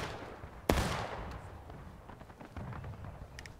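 A loud single gunshot cracks out in the Civil War shooter game War of Rights, followed by faint scattered distant musket fire and light background noise.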